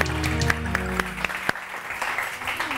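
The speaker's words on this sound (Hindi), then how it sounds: "ज़ोरदार तालियाँ डॉक्टर उमेरा हिल के लिए।" Studio audience applause for a guest doctor on a Pakistani morning TV show; clapping runs throughout under a music sting with sharp rhythmic hits that fades out partway through, leaving the applause alone.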